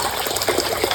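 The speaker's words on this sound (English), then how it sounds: "it doesn't look like it's pumping out much water." Water flows out of an aquarium canister filter in a fish room, a steady, close, full-band rushing gush with no pauses and no voices.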